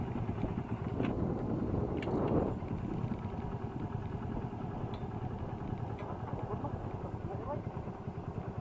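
Motorcycle engine idling on a rural road, a low steady mechanical rumble running throughout, with people talking nearby over it and a few brief knocks early on.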